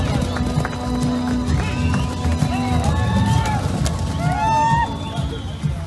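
Horses ridden by stunt riders at a summer-pasture event, with hoofbeats and whinnies rising and falling over steady crowd noise and a loud open-air background.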